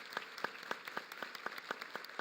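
A small audience at a smart city expo keynote in Puebla claps in a slow, even rhythm, about eight spaced claps heard faintly from a distance.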